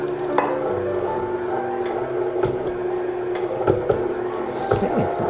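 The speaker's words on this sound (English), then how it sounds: "Now I'm just going to stir in our gumdrops that have been chopped." Chopped gumdrops and pecans are stirred into a cookie dough for a Thanksgiving recipe, a mixer whirring steadily for about five seconds with a few soft knocks and scrapes against the bowl.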